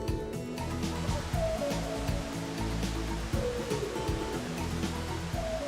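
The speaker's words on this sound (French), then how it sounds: "le bruit de la cascade rime avec dépaysement" Traé waterfall in Grand-Béréby, a cascade pouring continuously with a dense, steady rush of water, loud and unbroken, with low rumbling undertones throughout.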